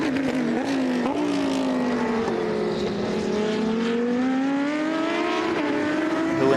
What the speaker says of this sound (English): behind them it is the Porsche 911, the 992 Cup, the Cup version